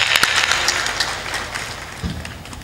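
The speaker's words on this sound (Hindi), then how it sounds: "जोर से ताली बजाना चाहिए" A gathering at a Hindi devotional discourse on true bhakti claps together, the loud applause dense at first and gradually thinning over a couple of seconds.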